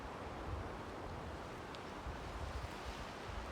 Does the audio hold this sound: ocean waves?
yes